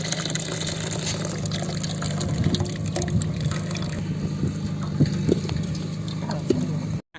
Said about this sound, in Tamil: நன்னாரி நல்லா வடிகட்டி எடுத்தாச்சு.